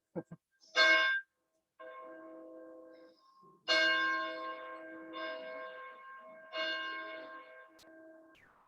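A church bell rung for a worship service sends out several loud, resonant strikes, each ringing on and slowly decaying into a long, humming tail before the next blow.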